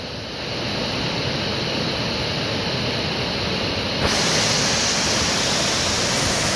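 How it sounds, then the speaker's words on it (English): A steady, loud roar of a waterfall on the Appalachian Trail fills the scene continuously, a close, dense rushing wash with no breaks. "that is a waterfall"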